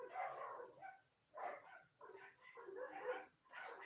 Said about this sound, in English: Oh man, there must be a dog walking by. You hear that?